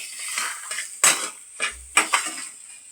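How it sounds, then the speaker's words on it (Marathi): Metal spoon scraping and clanking in a pan as moong dal is roasted and stirred for halwa, with irregular soft clinks and scrapes, close and fairly quiet. "तर इथे आपल्याला डाळ खूप छान प्रकारे भाजून घ्यायची आहे"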